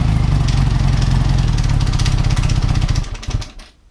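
A Honda Goldwing motorcycle engine idles loud and close with a steady low rumble, then cuts out and falls quiet near the end.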